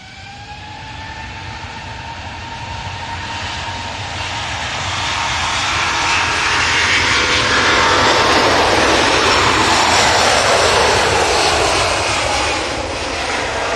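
Airliner jet engines spool up for a turn-and-burn takeoff at the airport, a rising whine over a deep rumble that swells into a loud, close, roaring blast and holds near its peak.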